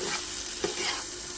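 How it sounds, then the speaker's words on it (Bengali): Chicken pieces being stirred into cooked spice masala in a frying pan, a steady soft sizzle with brief scraping stirs of the spoon, close and continuous. "এর সাথে আমি চিকেনগুলো মিক্সচার করে দিচ্ছি। এখন এগুলোকে নামিয়ে নেব, একটু নেড়ে চেড়ে।"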